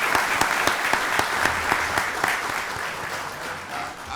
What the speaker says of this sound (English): Let's give Bryce a wonderful round of applause.